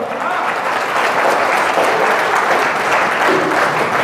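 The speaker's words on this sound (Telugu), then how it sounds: "ఒకసారి గట్టిగా చప్పట్లు కొడదాం" An audience at a Sai devotees' satsang gathering claps together in sustained, dense, loud applause that holds steady throughout, with no voice over it.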